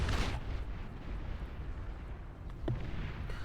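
Torpedo explosions in the real-time strategy game Beyond All Reason as a naval behemoth is destroyed, a loud booming burst at the start and a second sharp blast near the end over a low rumbling wash.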